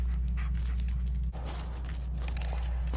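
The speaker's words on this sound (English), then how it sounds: "Where's my dog?" A dog in the Blair Witch video game pants in quick, breathy bursts under a steady low hum. A brief dip in the middle, then the panting carries on close by, with no voices.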